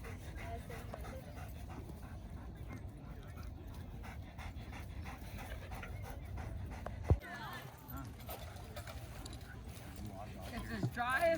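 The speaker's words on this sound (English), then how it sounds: "meeting some more dogs" German Shepherds pant steadily and rhythmically up close through the whole stretch, with a sharp knock partway through, rustling, and a voice speaking over it.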